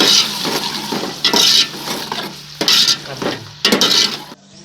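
Whole spices fry in hot ghee, a loud close sizzle that swells in bursts as the pan is stirred, with faint clinks of the utensil.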